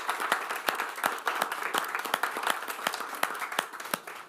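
Audience at a school district board meeting clapping, sharp individual claps from a modest crowd, moderately loud and close, uneven but steady across the whole stretch.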